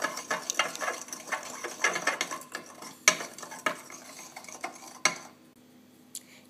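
A spoon stirs sushi sauce in a small dish after a spoonful of oil is added, giving quick repeated clinks and scrapes against the dish that stop near the end, followed by one faint tap.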